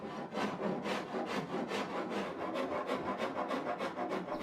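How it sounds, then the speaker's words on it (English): Coarse rasp smoothing and levelling the wooden underdeck edges of a coaming riser on a boat build, with a close, steady run of about fifteen rhythmic scraping strokes and nothing else heard. "The underdeck edges of the coaming riser need to be smoothed and leveled. I'm going to use rasps to do that."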